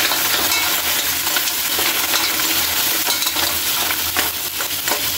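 Pancit canton is stirred in a hot pan, with a continuous loud sizzle and the scrape of a utensil against the metal, close and without talk.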